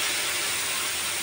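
Ground spice paste dropped into a hot pan with turmeric while cooking a thin curry of singi fish and raw banana, giving a steady, bright, close sizzle with no talk.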